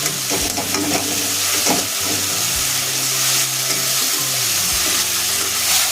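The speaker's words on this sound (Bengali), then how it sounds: "এখন আমি পেঁয়াজ আর রসুন ভালো করে একটু ভেজে নেবে" Onion and garlic fry in a pan for rui posto fish curry, giving a loud, close, continuous sizzle. Spatula stirs clatter and scrape against the pan at intervals.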